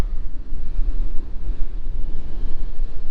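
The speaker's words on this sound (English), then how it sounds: "the way the waves are just right there crashing in just on the other side of the rocks here" Ocean waves crash against the rocks along the Lost Coast, a loud, constant roaring wash with heavy wind rumble buffeting the microphone throughout.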